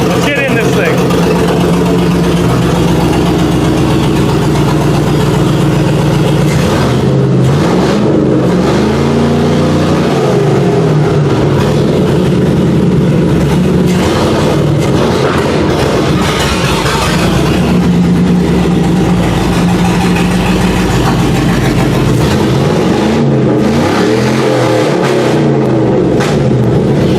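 A truck engine runs loudly and close, with repeated revs rising and falling over a rough steady rumble while people talk over it.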